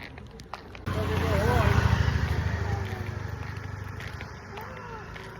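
A motorcycle engine swells as the bike approaches, holds for a moment, then fades away, with people talking over it.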